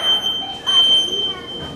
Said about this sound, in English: in the middle of the night, his smoke detector goes off.